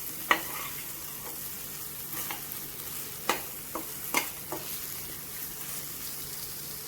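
Spices frying in hot oil in a home kitchen while mung beans are cooked dry, giving a soft steady sizzle broken by a few sharp scraping clicks of stirring, with no talking.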